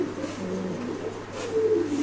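Spanish pigeons coo in low, steady, throaty notes that run on without a break for about two seconds. The birds sound close and clear, with no voices over them.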